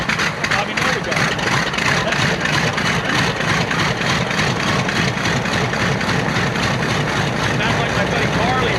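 The engines of Panchito, a B-25 bomber, run with a steady, loud, dense roar and rapid throbbing pulses throughout, heard close and continuous.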